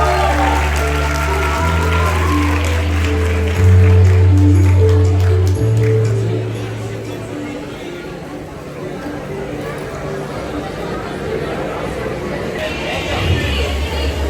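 A university theater audience claps and murmurs to welcome a guest on stage. Crowd noise and applause run under low sustained tones, then swell again briefly near the end.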